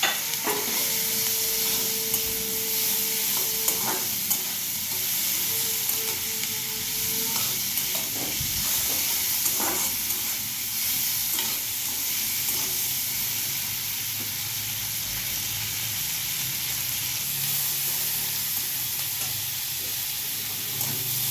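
Vegetables sizzle steadily in a pan as they are stirred for a mustard-sauce pomfret curry, with tomatoes added. A continuous close frying hiss runs throughout, broken by scraping stirs. No one speaks.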